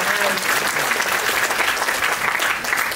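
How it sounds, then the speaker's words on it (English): Dense, loud applause from a seminar audience, continuous and even for a few seconds, with crowd noise mixed in. "You can clap your hands loudly for the next generation."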